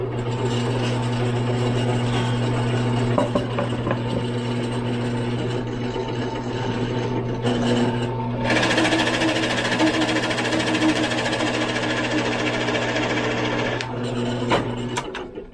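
A drill bores hinge holes into a cabinet door, a steady motor hum running throughout with a sharper, brighter whine of cutting for several seconds in the middle.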